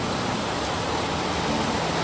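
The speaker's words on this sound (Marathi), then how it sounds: "चक्क इकडे ऊन पडलंय आणि कडकडून पाऊस पडतोय" A heavy shower falls under sunshine, making a thick, uniform roar of rain that stays constant and close with no other sounds standing out.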